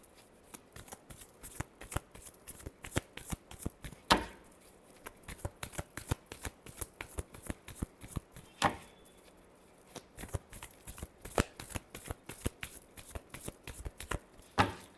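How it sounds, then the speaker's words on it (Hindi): Tarot cards being shuffled by hand: a long, steady stream of crisp papery riffles and slaps, close and moderately loud, with a few heavier bridge-like snaps along the way and no voice over it. "Last shuffle."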